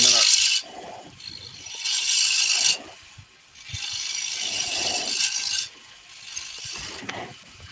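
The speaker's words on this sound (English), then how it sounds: "Again using the skew chisel as a scraper, negative rake scraper." A skew chisel used as a negative rake scraper on wood spinning on a lathe, loud bursts of harsh scraping that start and stop several times, each lasting one to two seconds, with quieter motor hum in between.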